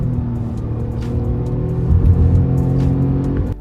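A Tata Nexon DCA car accelerates at full throttle, its engine droning loudly and rising steadily in pitch from inside the cabin before easing off at the end.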